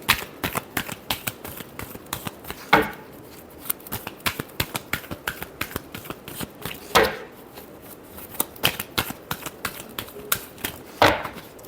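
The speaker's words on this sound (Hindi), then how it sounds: "Last shuffle." Tarot cards being shuffled by hand: a steady run of quick, close, light clicks, broken about every four seconds by a louder riffling burst, all fairly quiet with no talk.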